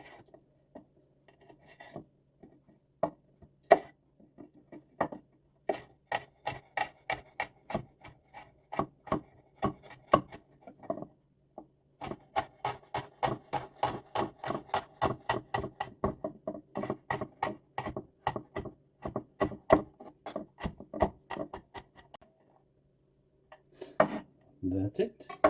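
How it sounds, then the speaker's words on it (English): A knife chops garlic on a wooden cutting board in a home kitchen, making quick rhythmic taps in bursts of varying speed, close and fairly clear, with scraping sounds between runs and a few short knocks. "almost forgot to chop the garlic"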